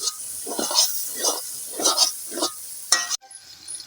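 Noodles with fresh vegetables and potatoes cooking outdoors at night at a village picnic, bursts of sizzling and stirring in rhythmic waves, ending with a sharp cutoff.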